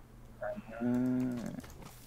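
A cow moos in the video game Minecraft Dungeons, one drawn-out low call rising and sustained for about a second, loud and close over a steady game hum.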